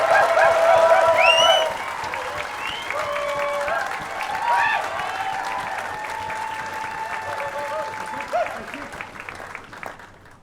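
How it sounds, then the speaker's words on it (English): Graduates in a marquee at a University of Aberdeen summer graduation break into loud, sustained applause and cheering, a dense crowd roar that gradually thins, with a voice speaking over the tail end. "I ask our graduates to their feet to rise, clap and shout and cheer so loud to break this marquee's guise"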